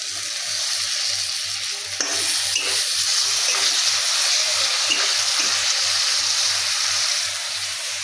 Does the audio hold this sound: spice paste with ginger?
yes